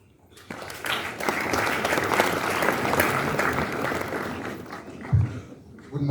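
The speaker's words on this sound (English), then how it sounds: "A clap for that thorough analysis." A school audience claps together at a morning assembly, a steady dense round of applause that starts after a short pause, holds strong for about four seconds, then thins out near the end.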